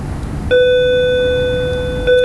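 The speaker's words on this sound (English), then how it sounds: "that's the bell in the video" A single clear electronic bell tone, like a school bell, rings out loud and sustained for about one and a half seconds, then briefly sounds again at the end.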